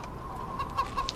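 Chickens cluck in a steady mix of short calls over a constant low background hum, close by and moderately loud, with no talking.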